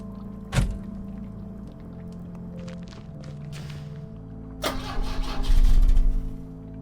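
A car engine in The Drifter video game cranks without catching: a sharp thunk, then a low mechanical churning, and a louder rough burst of cranking near the end, with no speech.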